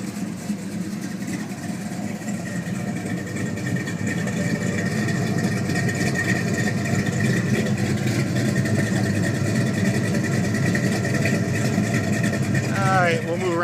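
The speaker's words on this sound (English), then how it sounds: "Let's go around the back and let you hear the exhaust." Rumbling exhaust from a 1972 Chevelle SS 454 running steadily behind the car, a continuous low engine drone that holds even, loud and close throughout.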